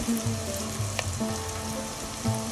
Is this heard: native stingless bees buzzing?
no